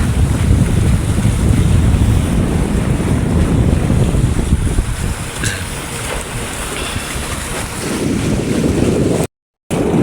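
Strong wind buffets the microphone in a steady, loud rush over open water where many small fishing outrigger boats (bangka) sit near Bungliw, with faint wave wash beneath and a brief dropout near the end.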